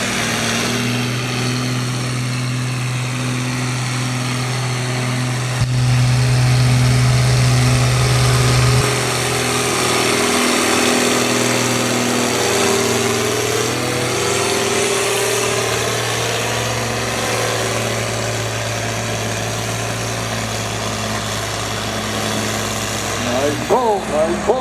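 A John Deere 4030 tractor idles at a tractor pull as a steady low engine drone. It surges briefly louder partway through, with an announcer talking over it.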